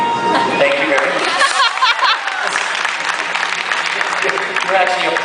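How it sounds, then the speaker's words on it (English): An audience applauds a Halloween Horror Nights performer after a torch-extinguishing trick, with sustained clapping and cheering from a crowd throughout. "You're actually applauding for that."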